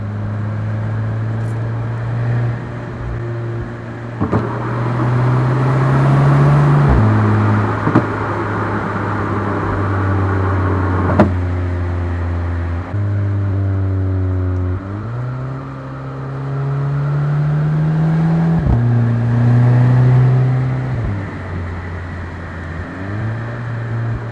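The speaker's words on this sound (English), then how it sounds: "So we're in third gear right now, doing about 40." A 2012 Audi TT 2.0T with a Magnaflow exhaust pulls in third gear with a deep, steady exhaust drone heard from inside. The pitch climbs and drops with several shifts and throttle changes.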